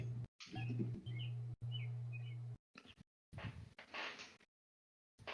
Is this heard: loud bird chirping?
yes